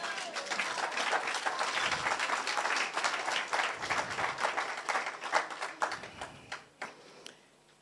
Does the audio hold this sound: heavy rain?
no